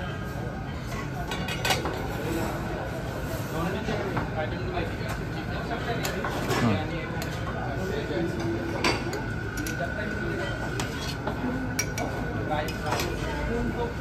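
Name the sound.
plates and bowls clinking at a buffet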